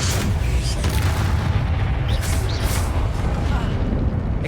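A Confringo fire spell blasting in the video game Hogwarts Legacy, heard as a dense, booming rumble that holds steady throughout, with bright crackling bursts rising over the low roar.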